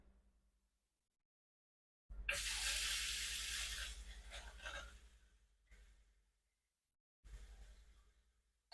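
Water running from a faucet in a 2025 Forest River Wildwood Heritage Glen fifth-wheel RV, with a steady hiss lasting a few seconds and then a second short burst after a pause.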